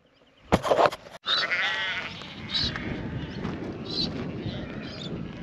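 Sheep bleat outdoors on an Australian outing, several drawn-out, wavering calls from a flock at moderate distance, following a sharp close knock and rustle at the start.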